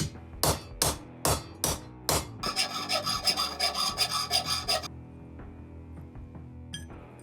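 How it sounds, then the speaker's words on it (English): A hand file works a 22 mm hole in a metal engine part into a round shape. Five slow, distinct rasping strokes are followed by a burst of rapid, continuous filing, then it goes quiet. "and file it to a round shape."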